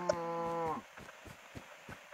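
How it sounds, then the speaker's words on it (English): A cow in the video game Minecraft gives one clear, drawn-out low moo, followed by faint, evenly spaced soft ticks in an otherwise quiet scene. "There's some cows too."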